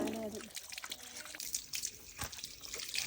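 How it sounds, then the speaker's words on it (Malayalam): Water splashes and drips in short bursts as soil is washed off freshly dug purple yams by hand, with a voice speaking over the sloshing. "മണ്ണെല്ലാം കളഞ്ഞ് നന്നായിട്ട് കഴുകിയെടുക്കുവാണേ"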